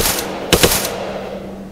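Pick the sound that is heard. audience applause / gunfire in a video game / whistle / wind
gunfire in a video game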